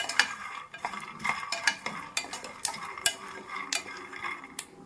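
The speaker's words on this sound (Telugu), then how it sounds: "చూడండి, మనకి పల్లీలు పేలుతున్నట్టుగా వస్తున్నాయి కదా, అప్పుడు మనకి వేగిపోయినట్టు అండి." Peanuts roast in a pan, giving irregular sharp pops and crackles with scraping stir strokes between them, close and moderately loud.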